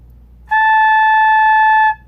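A single steady flute note, the train-whistle tone beginners practise for alignment, sounds clear and loud for about a second and a half, starting abruptly and tapering off at the end, with no talking.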